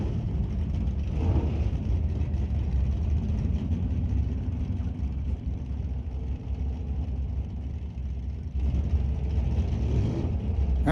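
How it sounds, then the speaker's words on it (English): A 1977 Buick idles off a drag strip into the pits at an NHRA race at Mission Raceway Park, a steady low engine rumble running close and constant throughout. "the 77 Buick idled its way off the track into the pits"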